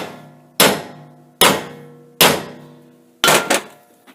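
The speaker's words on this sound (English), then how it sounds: "With a small ball peen hammer, you would insert it into the top of the brass sleeve" A small ball peen hammer gives four sharp metallic taps on a brass sleeve in a manual shift lever bushing, with ringing decay, evenly spaced, the last a quick double strike, close and clear with no talking.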